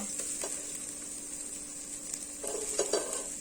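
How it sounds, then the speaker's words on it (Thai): Garlic, pepper and coriander root paste stir-fried in oil, with a continuous moderate sizzle broken by clinks of a utensil scraping the pan near the end. "ผัดสามเกลอให้หอมนี่นะคะ"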